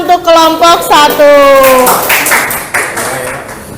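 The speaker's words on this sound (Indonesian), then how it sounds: "Yang lain beri tepuk tangan untuk kelompok 1" Classmates clap for the first student group in a classroom lesson, a loose patter of hands rising after a teacher's voice and then fading.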